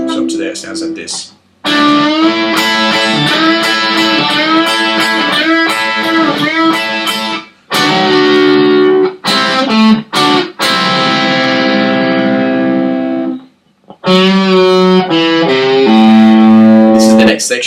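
Distorted electric guitar plays the solo section of a song, loud and sustained with bent notes and double stops, phrases separated by a few short pauses, with no talking over it.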